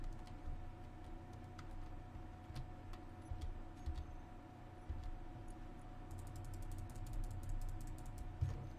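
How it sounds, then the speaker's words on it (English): Welding blocks in the video game Space Engineers, a steady mechanical ratcheting and ticking hum with faint clicks running continuously and busier toward the end. "I'm going to weld these"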